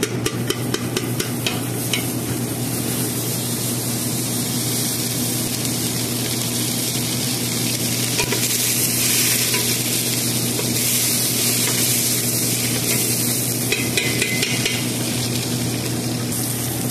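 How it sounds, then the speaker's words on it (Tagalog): Butter sizzles and crackles steadily in a heated frying pan, a continuous close hiss with a low hum underneath and no voices. "So nagpainit na tayo ng kawali. So lagyan na natin ng butter."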